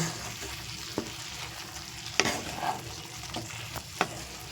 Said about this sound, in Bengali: এবারে এই পলটায় আমি দিয়ে দেব ডিমগুলো ডিমগুলো দিয়ে হালকাভাবে আমি নাড়াচাড়া করে নাইব